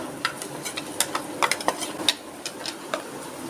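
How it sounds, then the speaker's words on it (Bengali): Mustard paste is added to fried bitter gourd in a pan, giving quiet scattered clinks and scraping stir sounds over a soft background sizzle, with no talking. "আমার উচ্চটা ভাজা হয়ে গেছে এর মধ্যে এখন আমি এই সর্ষে বাটাটা"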